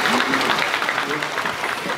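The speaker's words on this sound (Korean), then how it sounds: "오케스트라의 당원 여러분께 큰 박수를 부탁드립니다." An audience at a televised charity broadcast claps loudly and continuously as a youth orchestra enters, the dense applause close and even throughout.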